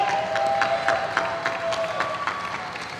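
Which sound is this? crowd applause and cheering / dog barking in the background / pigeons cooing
crowd applause and cheering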